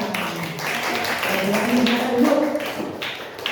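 Classroom of schoolchildren clapping together for their classmates' discussion work, a loud, continuous patter of small hands with some voices underneath.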